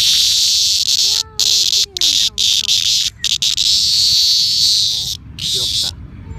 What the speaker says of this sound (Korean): 미국 매미.